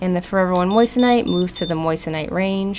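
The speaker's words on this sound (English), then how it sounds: "that noise you just heard was me hitting the metal" A Gemlogis Ciel One gem multi tester gives a brief high electronic beep as its probe touches metal, partly masked by someone talking steadily throughout.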